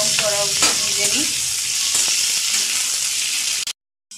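Tomatoes, ginger, garlic and chillies sizzle loudly in a pan for a shahi paneer, with a few stirring scrapes early on before the sound cuts off abruptly.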